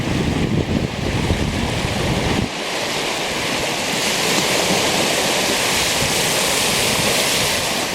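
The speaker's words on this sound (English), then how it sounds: "you could definitely see where this creek is flowing into Lake Superior, and it flows all the way down" A creek flows across a Lake Superior beach where it meets the lake, giving a loud, steady broadband rush of moving water, rougher and heavier for the first couple of seconds, then an even wash with no voices.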